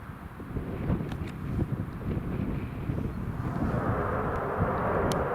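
A Eurofighter Typhoon jet flies past an airport during planespotting, a broad distant roar that swells toward the end, partly masked by wind buffeting the microphone.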